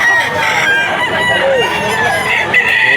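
A Sweater Gilmore gamefowl rooster crows loudly and close for one sustained call at a rainy pet market in Bocaue, with busy market background noise beneath it.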